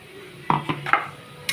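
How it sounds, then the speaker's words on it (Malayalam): Vegetables being stirred in a cooking pot, a few sharp clinks and scrapes of a spoon against the metal in quick succession, close and without any talk. "നമുക്ക് ഭംഗിയായിട്ടൊന്ന് ഇളക്കാം"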